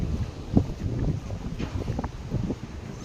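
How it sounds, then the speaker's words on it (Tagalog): Strong wind buffets the microphone at a high viewing deck, a rough, gusting rumble with uneven surges across a few seconds and no clear voices. "It's so windy."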